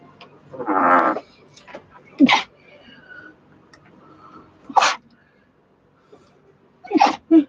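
Three sharp sneezes, spaced a couple of seconds apart, with a short burst of speech near the start and quiet background between them.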